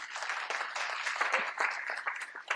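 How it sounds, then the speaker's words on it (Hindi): An audience at a motivational talk gives Professor Priya Ranjan a hearty round of applause, dense continuous clapping filling the room without pause. "एक जोरदार ताली में चाहूंगा सर के लिए"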